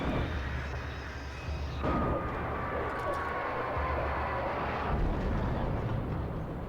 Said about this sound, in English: The helicopter's crashing.